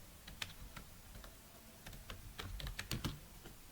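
Typing on a computer keyboard in WordPad: scattered, quiet key clicks in uneven bursts, close and soft, with no voice.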